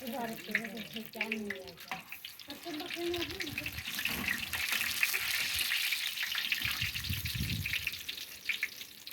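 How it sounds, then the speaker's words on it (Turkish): Eggplant slices fry in hot oil with a steady, soft sizzle and crackle, while a voice speaks briefly at the start. "Şimdi kızaran patlıcanlarımızı biz böyle alıyoruz biz süzgece."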